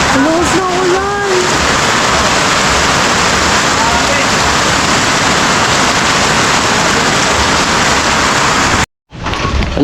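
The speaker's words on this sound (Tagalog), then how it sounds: "Sobrang lakas ng ulan." Heavy rain pours down during a typhoon, a dense, loud, steady roar that stays constant for about nine seconds before cutting off abruptly near the end, with a brief voice at the start.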